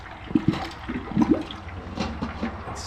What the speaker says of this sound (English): I am boiling out some oil, or the water out of oil.